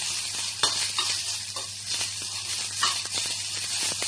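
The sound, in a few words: onion sautéing in a pan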